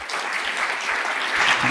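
A round of applause from an audience at a talk, a brief steady wash of clapping that swells slightly toward the end.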